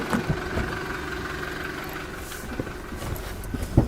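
A car engine idles steadily at close range, a low continuous hum with faint harmonic tones and a few small knocks and thumps scattered over about four seconds.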